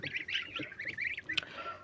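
Geese honk repeatedly in a brooder in a nasal, overlapping chorus, close by, with one sharper squawk near the end.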